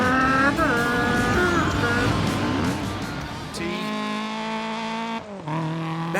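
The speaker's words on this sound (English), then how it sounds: "All you can hear is the engine." Rally car engine in a racing game, revving loudly with rising and falling pitch through gear changes and brief tire scrubbing, the engine alone with no music.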